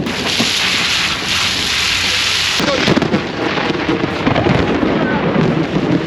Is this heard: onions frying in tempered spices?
no